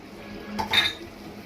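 Lid set on a pot of Kerala-style chili fish curry after coconut oil is added: a single close metallic clink and rattle in the middle, over a quiet kitchen background.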